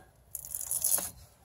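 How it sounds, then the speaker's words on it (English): A greased rubber boot on the front end of a 2017 Honda Civic pulls apart with a soft, faint tearing, peeling squelch lasting under a second, heard alone against quiet background. "The only sound you hear now is the boot pulling apart with the grease."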